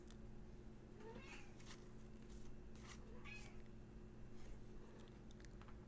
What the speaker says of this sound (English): Are you meowing at me?